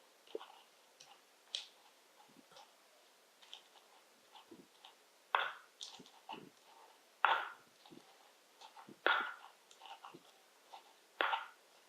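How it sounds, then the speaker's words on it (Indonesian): A stone mortar and pestle (ulekan) crushes spices for sambal with scattered, irregular taps and scraping grinds, several sharper strikes standing out from softer clicks, fairly close and quiet with no talking. "Jadi kita ngulek saja."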